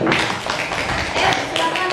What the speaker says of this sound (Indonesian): Beri tepuk tangan dulu untuk rekan.